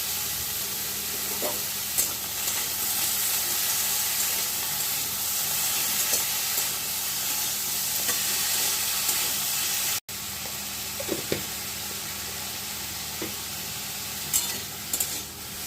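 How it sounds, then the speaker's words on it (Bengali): Diced vegetables, including potato, fry together in a pan with rock salt while being cooked for a millet khichuri. A steady close sizzle hisses throughout, with occasional stirring scrapes and a brief break partway through. "এবার সব সবজিগুলোকে একসঙ্গে ভালো করে একটু ভেজে নেব"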